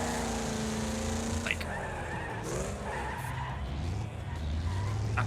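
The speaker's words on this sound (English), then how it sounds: "I tried to handbrake it, but I wasn't going fast enough." Tire squeal from a car skidding under handbrake in the racing game Wreckfest, a sustained screech over steady engine drone with other cars nearby, lasting most of the moment.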